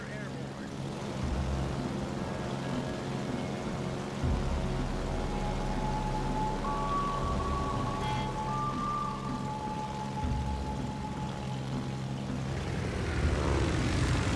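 A propeller-driven carrier aircraft drones steadily in World of Warships: Legends, a constant buzzing engine hum that stays even and moderately loud for the whole stretch.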